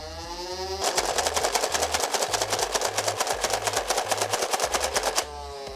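A Nerf Elite 2.0 Double Punch blaster fires darts as fast as possible one-handed, giving a rapid, even burst of roughly forty sharp, close mechanical shots over about four seconds.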